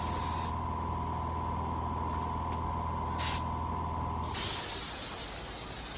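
A paint spray gun hisses steadily as the last of its hopper goes onto a Peugeot J9 van's roof line and corner, with short trigger bursts near the end.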